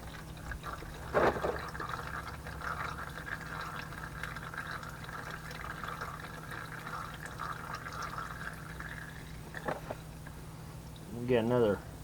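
Engine oil draining from the oil pan of a Pontiac G6 during an oil change, a steady trickling flow that runs for several seconds, with brief clanks near the start and end and a low background hum.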